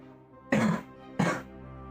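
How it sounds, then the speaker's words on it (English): Two short, rough coughs, close by and evenly spaced, over a faint steady hum. "I'm coughing too, yay."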